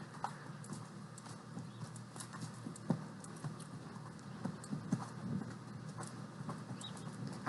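Horse hooves clip-clop steadily on the ground during a morning trail ride at a ranch, a soft, moderately distant rhythmic plodding with faint birdsong in the background.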